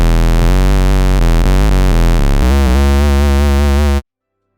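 A mono synth with two square-wave oscillators tuned an octave down plays a buzzy, hollow bass line of quick stepping notes, loud and upfront, for about four seconds before cutting to silence.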